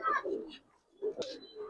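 Giribaz pigeons coo in a loft, two close throaty phrases separated by a short pause, with faint voices in the background.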